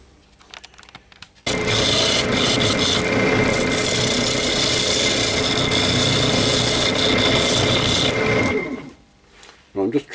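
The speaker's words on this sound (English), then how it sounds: "I'm getting a nice cut now, and I'm still using the roughing gouge" Roughing gouge cutting a yew bowl on a wood lathe, producing a loud, steady, continuous rasping roar that lasts about seven seconds before stopping abruptly, followed by quieter handling noises.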